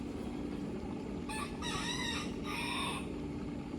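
Rooster crowing at a distance, one drawn-out cock-a-doodle-doo call in two parts over a constant background hiss.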